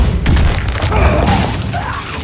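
Execute card destroying a minion in the Hearthstone video game: a loud, dense booming crash with shattering debris over a low rumble, lasting about two seconds.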